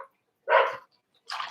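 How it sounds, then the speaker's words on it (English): Two loud bursts of dog barking, the first a longer bark and the second a short bark at the end, heard alone with quiet gaps between them. "those dogs are so loud."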